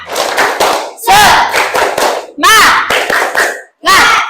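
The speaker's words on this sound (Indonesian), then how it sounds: "Oke, tepuk semangat." A group in a lesson claps a rhythmic spirit clap in quick bursts, several claps per phrase with short pauses between, while voices chant and shout along close by.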